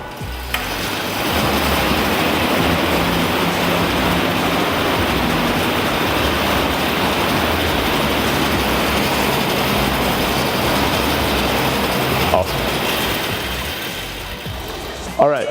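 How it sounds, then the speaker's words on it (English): Air resistance fan of an assault bike spun hard in a quick aggressive sprint start, a loud, steady broadband whoosh rising in the first second and holding nearly constant for about fourteen seconds. "start the bike with a quick aggressive sprint for 5 to 6 seconds and then settle into a pace"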